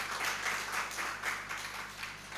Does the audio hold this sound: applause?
yes